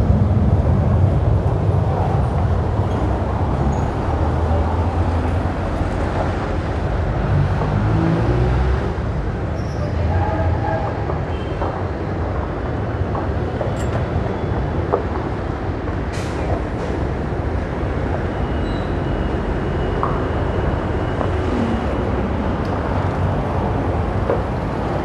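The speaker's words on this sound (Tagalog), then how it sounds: "ito lang yung LRT" LRT light rail train passing in a busy city, a long steady rumble of wheels and traffic roar with faint squeals, continuous and fairly loud.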